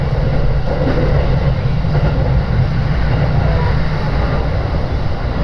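A Saikyo Line commuter train in Japan rumbling steadily along the rails between Toda and Toda-koen, loud and continuous low-pitched roar from inside a carriage.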